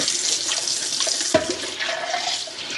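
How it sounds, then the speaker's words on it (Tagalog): Running tap water splashes steadily while a coffee cup is washed under it, with a brief knock partway through and no talking. "Hugasan natin yung pagkapihan ko"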